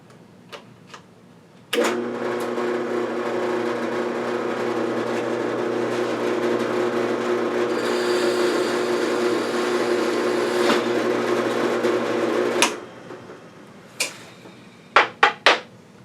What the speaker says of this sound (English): I've got it at a fairly low speed. I don't adjust the speed much on these drill presses.